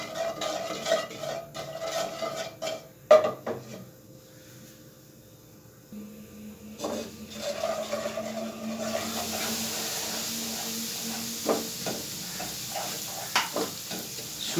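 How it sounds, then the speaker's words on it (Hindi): Semolina and ground cardamom being dry-roasted in a pan for suji and egg halwa, with close, steady scraping and stirring, a low sizzle and a few sharp clinks of a spoon against the pan. "1 कप जो सूजी का है उसको इसमें डाल के हल्का सा भून लेंगे"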